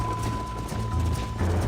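A horse galloping in the Red Dead Redemption video game, rapid rhythmic hoofbeats close up and steady over a low background score, with no talk.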